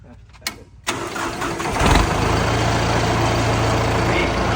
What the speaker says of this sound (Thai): ถ้าเราดับเครื่องแล้วสตาร์ทใหม่ มันใช้ได้ไหม